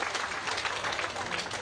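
Audience applause at a public ceremony opening the Placer del Toachi–Santa Rosa de Mulaute road, a steady wash of clapping from a crowd held at an even level with a voice partly audible over it.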